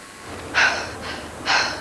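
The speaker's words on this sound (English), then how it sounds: "I can hear what sounds like somebody else breathing." Close, heavy breathing in a dark, quiet room, with two loud sharp inhalations about a second apart and a softer breath between them, no voices.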